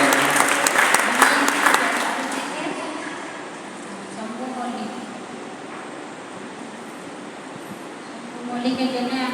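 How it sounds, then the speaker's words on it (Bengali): Church congregation clapping together, a dense burst of applause loudest at the start that fades to a softer patter and rises again near the end, with voices murmuring underneath. "সবাই হাততালি দিয়ে সবাই জানাই।"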